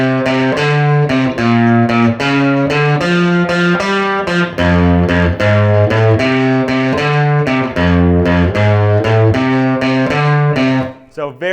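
Electric guitar plays a steady honky-tonk bass line rhythm variation from a 1956 song, with repeated plucked low notes under chordal riffs, loud and close without any talking.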